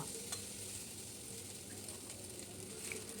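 Spinach, flat beans and green chillies being stirred as they fry in a pan, heard as a soft, continuous sizzle with faint scraping of the spoon, quiet and close, without speech.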